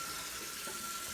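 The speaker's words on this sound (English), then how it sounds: "Turn off the water so not to waste water." Tap water runs steadily into a measuring cup at a kitchen sink, a constant hiss-like stream with no talking.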